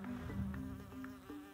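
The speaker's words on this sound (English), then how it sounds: "these bees aren't just out here getting their lunch and taking pollen back to the nest" Bumblebees buzz around flowers in a steady, low, droning hum that lasts the whole moment, with slight swells as they move close by.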